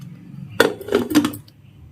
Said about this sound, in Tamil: அடுப்பில் கடாய் வச்சுட்டேன்.